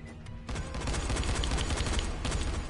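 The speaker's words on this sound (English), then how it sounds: "I hear all the gunfire." Bursts of rapid gunfire in the zombie game Dying Light, a dense crackling volley that starts abruptly and keeps rattling at a fair distance for a couple of seconds.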